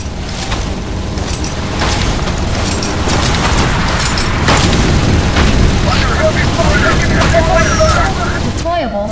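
A deployable supply drop lands in the Section 8 video game with a loud, continuous booming rumble and clanking, while battlefield noise churns around it and a voice speaks over the din.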